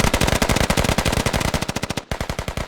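Rapid, loud machine-gun bursts in a tactical shooter video game hammer at a house, firing in a steady fast rhythm with a brief break near the end before the shots resume.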